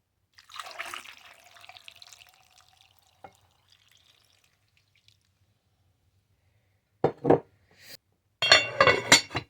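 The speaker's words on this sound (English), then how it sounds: "Now we're going to pour some water in it." Water pours into a pot filled nearly to the top with potatoes, a short splashing rush near the start, followed by a few later clinks and bursts of handling.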